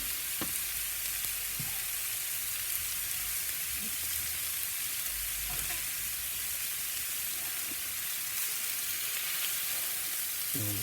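Sandwich with grated cheese sizzling on a soapstone slab on a Big Joe grill, a steady near hiss and crackle with occasional soft taps and no voices.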